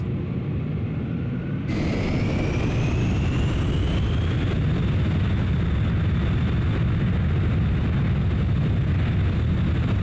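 A B-2 Spirit jet takeoff at full throttle in a flight simulator game: a loud, constant engine roar with a rising whine that climbs steadily as the aircraft accelerates down the runway.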